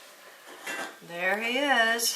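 A dog noses into cat food bowls, making faint clinks and clatters of dishes nearby, while someone speaks briefly over the rummaging.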